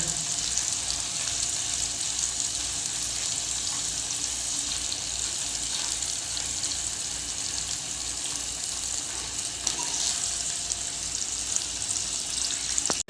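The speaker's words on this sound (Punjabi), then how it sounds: "ਪਨੀਰ ਦੇ ਨਾਲ ਨਾਲ ਅਸੀਂ ਪਿਆਜ਼ ਵੀ ਫਰਾਈ ਕਰ ਲੈਣਾ" Paneer and onion frying in a pan, a steady close sizzle with a soft hiss running throughout, no voices.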